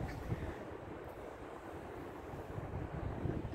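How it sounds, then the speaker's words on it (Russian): Wind buffets steadily outdoors among ruined stone walls in northern Italy, a broad rushing roar close to the microphone that swells slightly toward the end, with no talking. "Слушайте, ну ветер прекрасный вообще."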